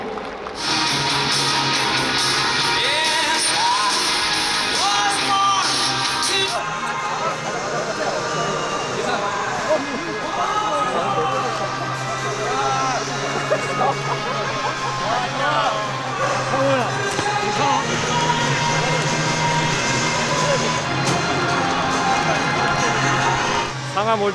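Stadium crowd at a K League 1 football match between Seoul and Incheon, a steady broad wash of applause and cheering that runs throughout, with a voice over the public address heard over the crowd.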